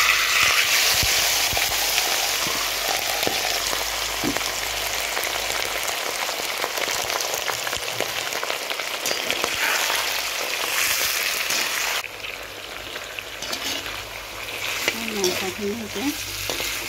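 Meat dropped into hot oil that was first heated until its raw smell cleared: a loud, crackling sizzle with frequent pops and stirring scrapes, easing somewhat near the end, with no voices.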